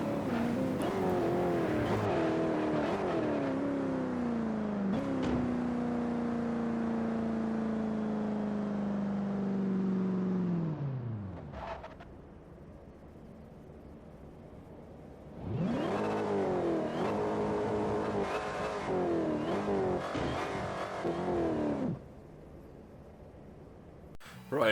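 A Ford Mustang engine in the Forza Horizon racing game drones loudly under gradual load, pitch sliding down before cutting out, then roars again in a second revving burst after a quieter pause.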